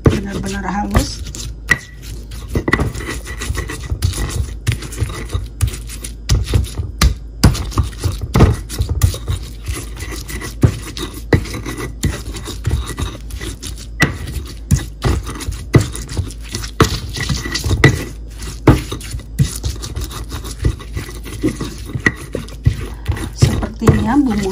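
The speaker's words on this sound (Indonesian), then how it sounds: "Kemudian kita giling halus sampai bumbu-bumbu ini" Spices being ground by hand into a fine paste for tempe mendoan batter, a steady run of close scraping and rubbing strokes with soft knocks that carries on for the whole stretch, with no talk over it.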